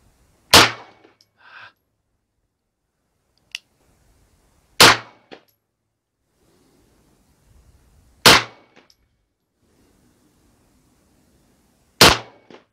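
Single shots from a Beretta 92 pistol during target shooting, four sharp loud reports spaced a few seconds apart with faint handling clicks and rustle between them.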